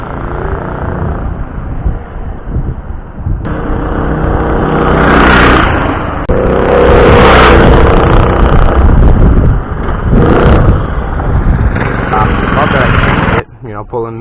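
A Baja Warrior mini bike with a Predator 212 engine and a new exhaust with a flipper muffler runs loud and close, its revs surging up and down under wind buffeting before cutting out near the end.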